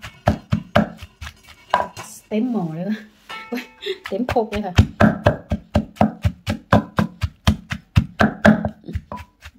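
Chopped mushrooms are pounded in a mortar for a spicy chili dip, a steady run of dull, close thuds. Someone talks briefly partway through.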